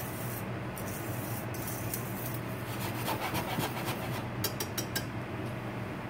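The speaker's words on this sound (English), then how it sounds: "Now, let's whisk that in." A whisk works through a sauce in a pan for chicken fried steak, making a continuous scraping, rubbing sound with quicker strokes in the middle.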